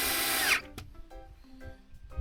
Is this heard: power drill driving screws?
yes